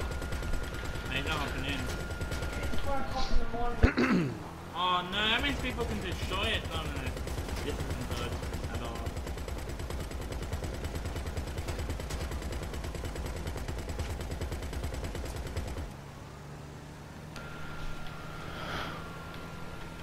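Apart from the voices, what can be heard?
gunfire in GTA 5 Online video game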